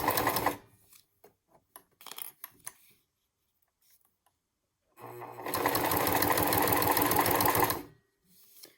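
Sewing machine stitching a leather crossbody bag at its longest stitch length, a steady loud whirring run of about three seconds after a few brief clicks and handling noises, with no talk.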